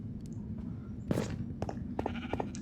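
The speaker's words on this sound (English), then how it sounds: "Sheep farm. Did this one a little bit differently. Just put a whole bunch of them in there together." Sheep penned together on a Minecraft sheep farm, several short bleats scattered over a low steady background hum, moderately loud and close.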